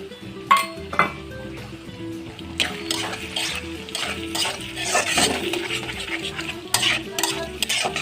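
Eggs being stirred into noodles and vegetables in a pan, with a utensil scraping and clinking against the metal in an irregular rhythm under a soft sizzle, close and fairly loud.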